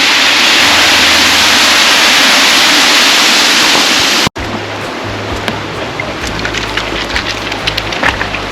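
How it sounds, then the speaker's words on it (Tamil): Waterfall on the Isle of Skye roaring in a loud, steady, hissing rush of falling water, then an abrupt cut to a quieter outdoor scene where the water noise continues softer with a low rumble and light bumps. "இந்த ஃபால்ஸ் ரொம்ப பியூட்டிஃபுல்லாக இருக்குது."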